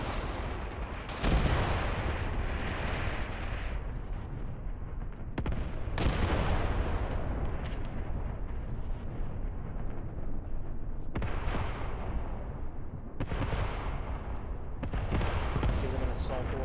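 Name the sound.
mortar fire landing on troops in video game Graviteam Tactics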